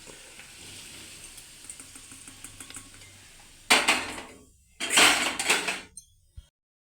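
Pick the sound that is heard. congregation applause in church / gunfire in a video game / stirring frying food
stirring frying food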